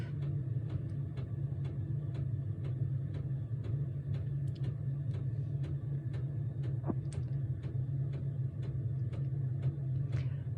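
A diesel heater runs off a Rockpals 505 Wh portable power station, throttled down to its lowest setting after the glow plug stage, giving a steady low hum with a faint rapid ticking pulse, close by and continuous, no talking.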